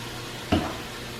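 Potatoes and onions fry in a pan with a faint, steady sizzle, broken once by a single quick stir.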